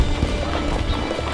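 A horse trotting in a riding lesson, a couple of soft hoof beats against a steady background rumble, brief and moderately close.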